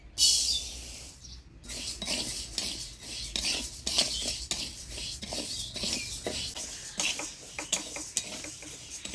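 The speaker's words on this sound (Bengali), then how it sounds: "মুগ ডালটা কাঠখোলায় ভেজে নিই।" Moong dal dry-roasting in a clay pan, stirred with a utensil, producing repeated close scraping and rattling strokes in an uneven rhythm, with no talking.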